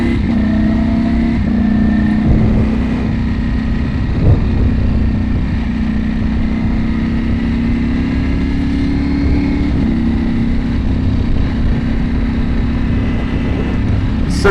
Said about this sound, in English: The auto blip system is so dope, and then the upshifts are just so smooth.